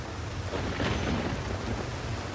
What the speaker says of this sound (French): Qu'est-ce qu'il y a comme pluie cet hiver?